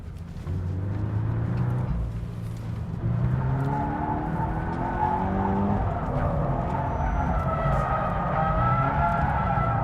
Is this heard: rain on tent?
no